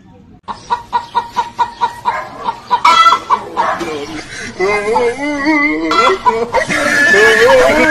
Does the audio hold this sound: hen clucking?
yes